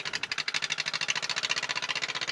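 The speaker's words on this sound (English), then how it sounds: "now we're gonna re-engage the Pony motor again" Pony starting motor of a Caterpillar D8 dozer, re-engaged and running, a fast rhythmic chattering beat that pulses evenly at close range with no voices over it.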